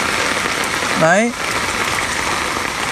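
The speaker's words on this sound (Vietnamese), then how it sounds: "mưa đâu gió đấy, dễ sợ kinh khủng" Heavy rain pours down with strong wind during a flood in Huế, Vietnam, making a dense, loud, steady hiss throughout, with a short spoken word from a nearby voice partway through.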